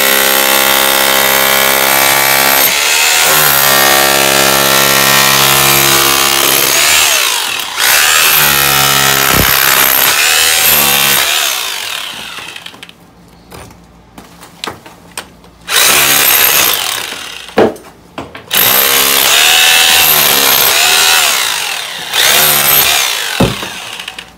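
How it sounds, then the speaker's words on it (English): Loud pneumatic chipping gun hammering at a cracked cast iron sewer pipe, a dense rattling burst for several seconds that breaks into shorter intermittent bursts with pauses between. "I'm gonna get the chipping gun, chip this out"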